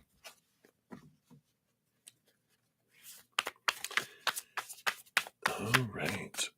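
A deck of reading cards is shuffled by hand at close range, with soft scattered taps at first, then a dense burst of riffling and flicking card sounds toward the end.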